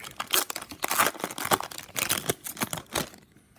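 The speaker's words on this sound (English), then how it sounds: "let's start opening up our packs" Foil hockey card packs from an Upper Deck Mask Collection hobby box being torn open by hand, a close, busy series of crinkling rips and crumples with irregular bursts, no speech.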